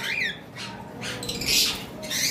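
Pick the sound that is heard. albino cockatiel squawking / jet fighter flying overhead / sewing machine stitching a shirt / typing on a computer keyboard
albino cockatiel squawking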